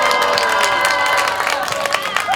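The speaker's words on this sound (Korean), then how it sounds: "다시 한번 큰 박수 부탁드립니다." An outdoor crowd at a candlelight rally claps and cheers in a dense, continuous burst of applause, heard close and fairly loud.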